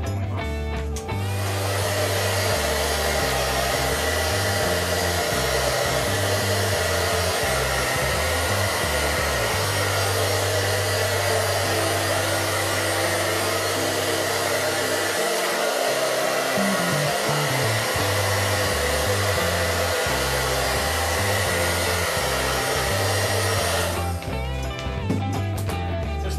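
A hair dryer blows steadily and loudly for about 25 seconds to heat road bike bar tape on a Bianchi Via Nirone 7, with a brief dip in its low hum partway through.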